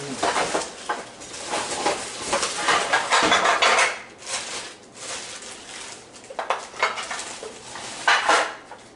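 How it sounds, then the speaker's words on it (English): Metal bread baking pans clatter and clank repeatedly, bright scraping and knocking sounds close by, with no talking. "we're going to get our pans"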